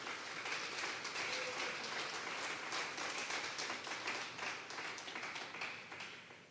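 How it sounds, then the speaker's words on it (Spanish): A church congregation at a Sunday service claps together in a steady, moderately loud round of applause, which fades slightly toward the end. "Vamos a darle un fuerte aplauso al Señor esta tarde"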